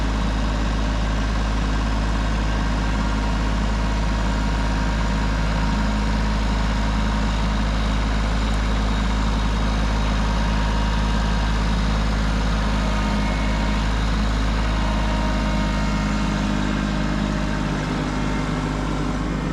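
A 26 horsepower Kubota tractor engine runs steadily in a wooded setting, a loud, continuous low idling drone with no change in pace and no voices.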